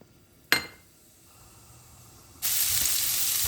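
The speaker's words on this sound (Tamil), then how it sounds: "எண்ணெய் காஞ்சோன்னா சீரகம்" Cumin seeds dropped into hot oil in a pan: a sharp clink, a quiet pause, then a sudden bright sizzle that holds steady and fairly loud.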